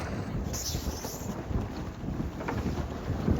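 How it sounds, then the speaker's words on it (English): Wind gusting over open water near a sailboat having its sails hoisted in a southwest breeze, a steady broadband rush with low buffeting against the microphone, no voices. "Breeze just picked up from the southwest"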